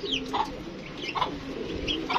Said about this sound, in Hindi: ये 30 कबूतर हमने निकाले हैं बांध कर